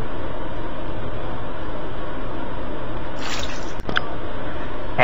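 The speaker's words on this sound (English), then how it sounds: "Let's add the hot water." Hot water pours into a skillet holding drained canned tuna, milk and butter, a steady liquid rush followed by a short splash and a brief clatter near the end.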